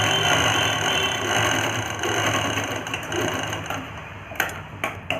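A sewing machine stitches a Gagra blouse, its steady, loud mechanical whirring and ticking running almost continuously before a few separate clicks near the end.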